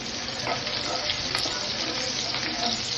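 Finely chopped green chillies frying in hot oil for baingan bharta, a loud continuous sizzle with light stirring, close and steady throughout with no talk.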